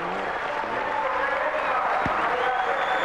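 Spectators cheer and applaud along a wet, slippery Rally Argentina 2007 stage in light rain, a steady broad crowd roar with clapping, mixed with a commentator talking over it.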